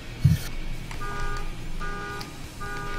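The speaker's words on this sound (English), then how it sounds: "Car alarms." A car alarm's repeating electronic tone and honks play through a Final Fantasy XIV Ultimate raid fight, steady over about three seconds with game effects and faint background noise.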